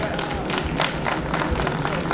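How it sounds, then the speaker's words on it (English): An audience at a golden jubilee college reunion claps for a group of performers, brisk, fairly close hand claps with crowd murmur and voices mixed in underneath. "shall we give them a big applause?"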